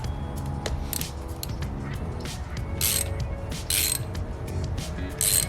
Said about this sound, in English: I'm gonna go ahead and use my 19mm socket and then just tighten it.